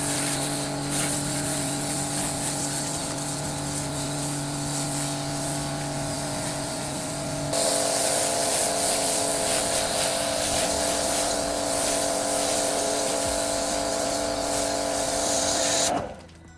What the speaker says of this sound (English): This foam cannon has worked well and covered the car in a nice thick foam.